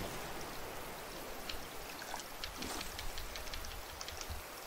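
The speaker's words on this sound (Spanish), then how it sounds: "que esté lloviendo y me haga falta regar" Steady rain in the survival video game Raft, a dense continuous patter of drops with a few brighter splashes, fairly quiet and even throughout.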